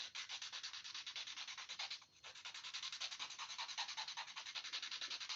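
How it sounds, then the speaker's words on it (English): A paper blending stump is rubbed back and forth on a sandpaper paddle to clean it during a live tractor drawing, a close, steady rhythmic scratching with a short pause midway. "Got a sandpaper paddle here."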